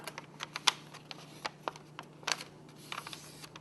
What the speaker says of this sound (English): we're going to fold it backwards along this central spine